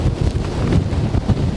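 Gusty wind buffeting the microphone while walking outdoors in a heavy snowstorm in the Greater New York City area, a close, rumbling low roar that rises and falls in bursts.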